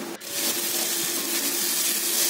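Water pours steadily into a pan of spiced potato curry for chicken ghugni, a continuous close gushing wash with a brief dip near the start and no talk.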